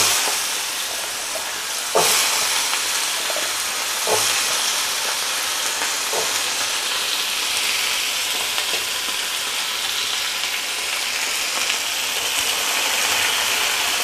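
Potatoes fry in hot oil in a pan with curry leaves and urad dal, giving a steady close sizzle and hiss, broken by a few sharp clatters of stirring.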